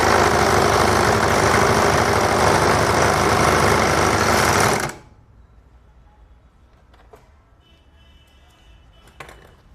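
A bag closer sewing machine stitches denim jeans fabric with a loud, steady motorized whir lasting several seconds, then cuts off abruptly, leaving faint handling clicks and a low background hum.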